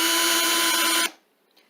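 A power drill with a thin 5/32 cement bit bores into a terra cotta pot, a steady high whine that cuts off abruptly after about a second, leaving near silence.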